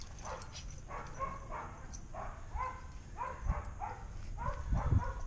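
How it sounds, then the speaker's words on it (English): A neighbouring dog barks in a string of repeated, fairly even barks, carrying from a short distance over low background rumble. "That's the dog next door."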